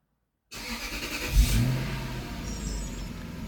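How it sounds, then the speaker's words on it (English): A Lexus SC430 engine starts up close, with a brief starter crank and then a sharp catch into a rev flare. It settles into a steady, even idle. "We're going to turn this car on."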